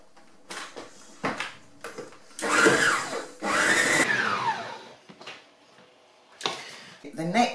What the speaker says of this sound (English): I'm going to beat this together until it's really light